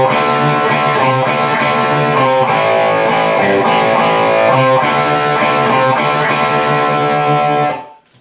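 Distorted electric guitar chugging the chorus rhythm of a song, loud steady strummed chords with rhythmic accents, played alone and ringing out at the end.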